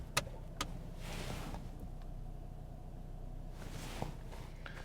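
An Acura Integra Type S with a six-speed manual drives along a mountain road, heard from inside as a quiet, steady engine and road drone with a few light clicks and thumps in the cabin.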